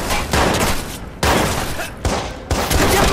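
A shootout in Watch Dogs, with dense, loud bursts of gunfire coming in several waves and short gaps between them, and no voices.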